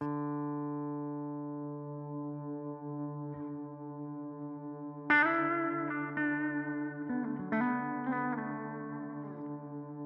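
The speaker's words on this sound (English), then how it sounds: "It's an infinite hold pedal" An electric guitar runs through an infinite hold sustain pedal, a steady droning chord held without decay while new plucked notes ring out over it, close and fairly quiet with no voices.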